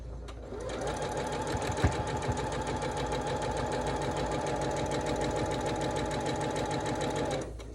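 A sewing machine stitches quilt pieces in a fast, steady run of rapid needle clatter with a mechanical hum beneath, going for about seven seconds before stopping.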